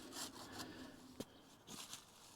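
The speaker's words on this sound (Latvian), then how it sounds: "Es tev iedevu zāģīti ar smalkākiem zobiņiem, lai tev vieglāk ir zāģēt." Small fine-toothed hand saw cutting through thin, long tree branches outdoors, giving quiet rasping strokes in a loose back-and-forth rhythm with one sharp snap midway, close by and faint.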